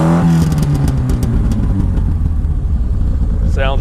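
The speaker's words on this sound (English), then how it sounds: "Go ahead and rev it up." A 1978 Lotus Eclat Sprint, a British classic sports car, revs its engine loudly close to the exhaust pipes, with a rising throttle blip at the start, a raspy held idle-to-mid rev, then another quick climb at the end.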